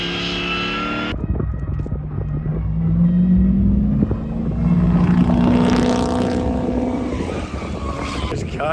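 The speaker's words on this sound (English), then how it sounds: "Mikey is getting in the car with Nate Chen, the FD driver, for a little bit of a ride along" A Formula Drift car carries a passenger on a ride-along. The engine roars loud and close, its pitch climbing and holding through hard revving, with faint road and wind noise.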